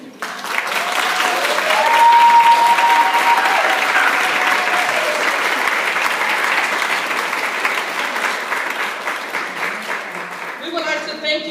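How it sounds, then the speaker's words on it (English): Sustained audience applause at a practical nurse class graduation ceremony, a loud, dense wash of many hands clapping that swells early and holds steady, with faint voices and a brief tonal sound near the end. "I would like the students to stand and give a round of applause to all of you"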